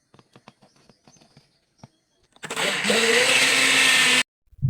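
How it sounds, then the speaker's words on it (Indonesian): An electric blender grinds freshly grated coconut, half a coconut, for kue cucur batter. Soft tapping comes first, then the motor bursts into a loud, steady whirring grind for about two seconds and cuts off abruptly. "Kita haluskan menggunakan blender dan kita blender dengan benar-benar halus"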